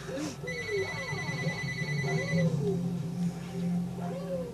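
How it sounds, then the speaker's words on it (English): A telephone rings repeatedly during a Super Mario Galaxy play session, its electronic ringtone trilling in short repeated bursts over the game music while someone talks over it. "More phone interruptions!"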